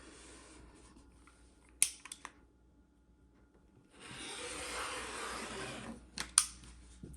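A blade cuts folded quilting fabric along a ruler: a steady scraping pass of about two seconds, bracketed by sharp clicks and small taps from handling the ruler, close and quiet with no voices.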